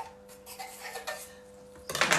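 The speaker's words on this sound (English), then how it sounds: "So I have two big stainless steel pans that I cook my food on." Big stainless steel cooking pans clinking and clattering nearby in a few light metallic knocks, closing with a louder scrape and clang.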